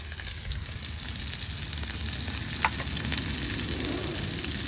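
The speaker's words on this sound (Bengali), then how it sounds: "আলুর মধ্যে কটা চেরা কাঁচা লঙ্কা দিয়ে দেব" Potatoes fry in a pan with slit green chillies, giving a constant, dense sizzle and hiss with a small clink partway through and no one speaking.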